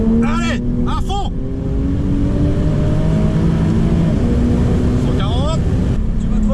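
Car driven at full throttle during a track session at Japcar Festival, the engine drone loud and steady with rising gear pitches, while a voice shouts over it at close range.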